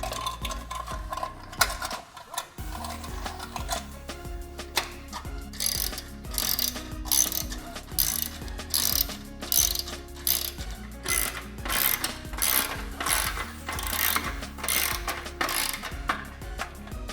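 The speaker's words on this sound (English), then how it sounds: "I will start tightening up the hose clamps." A hand ratchet tightens hose clamps on a Harley-Davidson Sport Glide exhaust, giving steady, close, rapid clicking strokes in repeated bursts that continue throughout with no talking.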